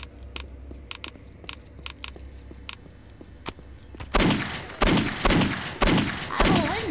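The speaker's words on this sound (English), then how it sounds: "Why are you shooting me?" Video game gunfire: scattered small clicks and taps at first, then a series of loud, close blasts in quick bursts, roughly one every half second, echoing heavily.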